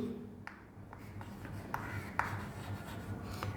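Chalk writing on a board during a university mathematics lecture on differential equations, heard as a few faint, scattered taps and short scratchy strokes over quiet room tone, with no talking.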